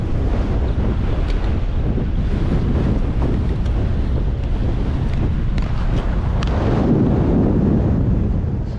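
Strong wind outside Wembley Stadium in London roars and buffets the microphone as a loud, constant rumble with gusting surges throughout.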